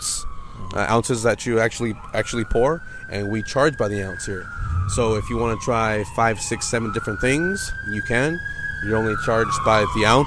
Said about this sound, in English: I'm sorry about that siren